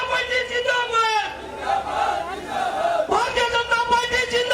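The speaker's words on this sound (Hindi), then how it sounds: "जोर से नारा लगना चाहिए" A large crowd at a BJP political rally chants slogans in unison, loud and sustained, with a leader's voice calling out and the massed voices answering in rhythmic waves.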